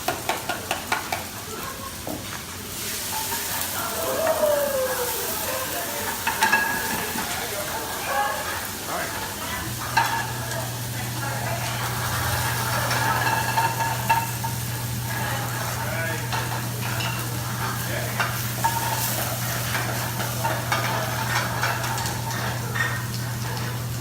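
Vegetables including red pepper are stir-fried for pad thai in a hot pan during a cooking lesson, giving a continuous loud sizzle with stirring and scraping, and voices talking over it.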